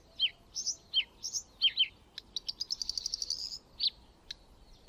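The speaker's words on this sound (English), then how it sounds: "we focus on two remarkable songbirds, the Eurasian wren and the bluethroat" Eurasian wren and bluethroat singing in forest, a run of high, quick chirps, whistles and rapid trills, fairly faint over a quiet background.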